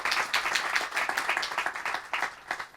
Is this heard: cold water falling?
no